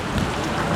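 Steady rain falls at a roadside stop on a family trip through Shivamogge. The wash of rain is dense and continuous and sounds moderately close, with no talk over it.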